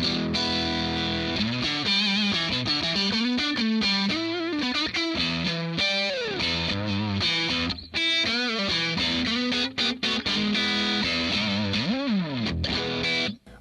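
Electric guitar fitted with a hum-canceling single-coil DiMarzio pickup, played through distortion with quick melodic runs, bends and sustained notes, loud and upfront, ending with a descending slide.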